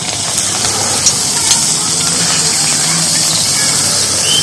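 A potato slice drops into hot white oil for homemade crispy potato chips, setting off a loud, continuous bubbling sizzle and hiss that holds steady throughout.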